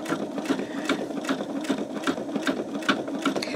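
An embroidery machine stitches out a greeting card design, its needle tapping in a fast, even rhythm with a soft mechanical hum, close and moderately quiet, with no voices.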